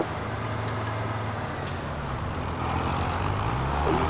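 A new tractor drives in Farming Simulator 25, its engine a steady, loud, low diesel drone with a brief hiss partway through. The engine rises slightly in pitch and load toward the end.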